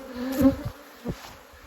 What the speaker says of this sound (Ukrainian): А молода бджола зараз збереться в рій